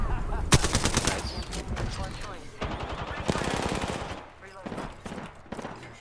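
Gunfire in the video game Apex Legends: rapid automatic bursts crackle continuously, loud and dense, with sharper single shots near the start and middle, mixed with game effects and some talk in the background.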